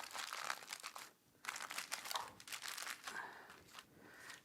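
Wrap being folded over baby back ribs before they go into the smoker makes close, crisp crinkling in steady bursts with a brief pause in the middle.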